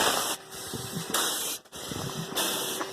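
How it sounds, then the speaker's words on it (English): Exhaust from a small portable steam engine chuffs in a loud, steady broadband spray, with brief dips between bursts as condensate glugs up the stack. "You're going to hear the exhaust is glugging a little bit"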